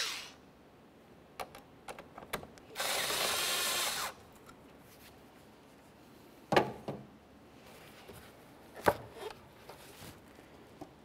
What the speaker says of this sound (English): We're going to use an 8mm to go ahead and turn this until this loosens up enough to slide it off.